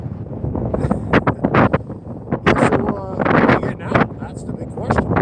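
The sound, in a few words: strong wind outdoors while ice fishing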